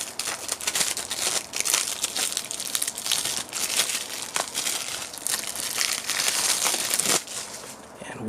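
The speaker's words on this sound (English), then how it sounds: "Now let's remove the shrink wrap to see what's inside." Shrink wrap ripped and crinkled off a Miss Kobayashi's Dragon Maid Choro-gon Breath toy box, continuous loud crackling plastic close to the listener for several seconds.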